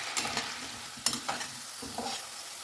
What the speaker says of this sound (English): 2 medium sized potatoes, peeled and diced like the jackfruit. Fry this till they are light golden in color.